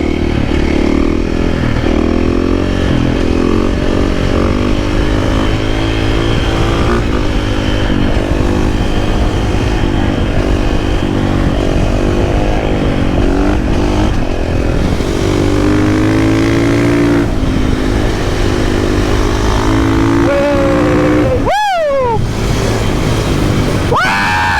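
A supermoto motorcycle's engine drones loud and steady throughout a ride, with shifting revs and wind rush, and a sharp clattering burst near the end.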